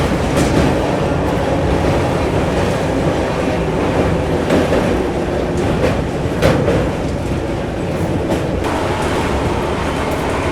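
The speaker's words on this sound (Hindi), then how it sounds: "दोस्तों गाड़ी अपनी जो है हाजीपुर जंक्शन अराइव कर रही है।" The Bihar Sampark Kranti passenger train from New Delhi to Darbhanga rolls into Hajipur Junction, its wheels beating a loud, close clickety-clack over the rails with a continuous rumble.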